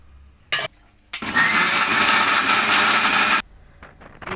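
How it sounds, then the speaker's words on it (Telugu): Mixer grinder blending spinach with cashews for palak paneer: after a brief pulse and a pause, the motor whirs loudly and steadily for about two seconds, then cuts off. "ఇప్పుడు ఈ పాలక్ పన్నీర్లో ఈ పాలక్ కూడా కొంచెం జీడిపప్పులు వేసి 4 మిక్సీ పట్టేసుకుందాం"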